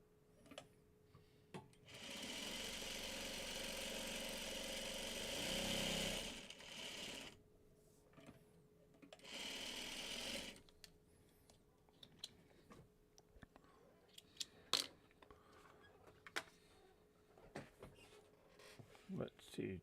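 A sewing machine stitches in two sustained runs, a long steady whir lasting several seconds and then a shorter burst. Scattered clicks and handling noises follow, and faint talk comes through in the background.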